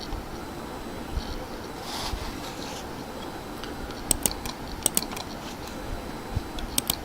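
Typing on a computer keyboard while naming a new Microsoft Access database file, heard as a few faint, close key clicks scattered over quiet room hiss in the latter half.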